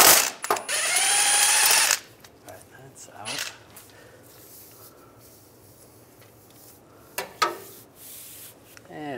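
A power tool spins out 15 millimeter bolts on a 2007-2013 Chevy Silverado: a loud two-second whirring burst, then quieter clinks and short tool noises.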